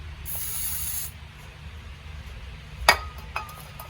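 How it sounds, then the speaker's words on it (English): Brake cleaner sprayed onto the threads of a trailer wheel hub, a steady close hiss lasting about a second, followed by faint clinks of tools and a sharp metallic knock near the end. "I always run a bit of brake clean."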